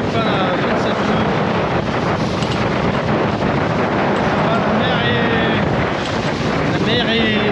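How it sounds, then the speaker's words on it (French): Strong wind gusts roar across the microphone aboard a sailboat at sea, a loud, continuous rush with surging gusts and water noise filling the whole stretch. "Ça forcit encore un peu là, j'ai eu des rafales à 27 nœuds."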